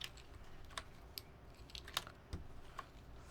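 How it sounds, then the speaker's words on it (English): Sparse clicks and clacks as keycaps are pulled and fitted on a Realforce keyboard, an RKR65 being fitted with MOA-profile caps; several scattered, fairly faint taps at irregular intervals over a soft background hiss. "Just changing keycaps."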